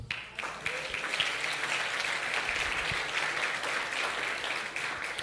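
A congregation at a Sunday church service applauds the Lord, a sustained crowd clap that rises quickly and holds at a moderate, even level, with faint voices mixed underneath.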